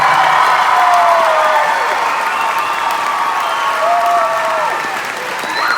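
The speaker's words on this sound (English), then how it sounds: "so maybe specifically some applause for Chris." Audience at a book launch applauds steadily, a full and fairly loud wash of clapping with scattered cheers and voices, sustained for several seconds.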